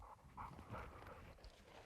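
A hunting dog pants close by in quick, rhythmic breaths during a South Texas dove hunt, with a few faint whimpery sounds mixed in.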